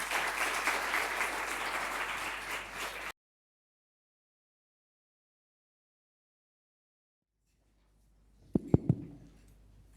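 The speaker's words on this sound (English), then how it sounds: "A big round of applause to all of you." Steady applause from a conference audience for a panel at a financial markets convention, a dense wash of clapping that cuts off abruptly after three seconds, followed by silence and a few faint knocks.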